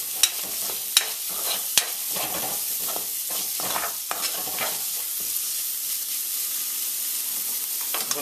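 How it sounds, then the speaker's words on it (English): Chopped bird's eye pepper is stirred in a sizzling pan: a few sharp utensil clacks and scrapes early on over a constant soft frying hiss that continues alone to the end. "Let's give that a quick stir."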